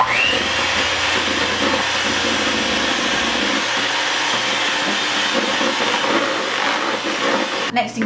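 An electric mixer beats eggs into creamed butter and sugar for red velvet whoopie pie batter, a steady loud motor whir running throughout with a brief clatter at the end.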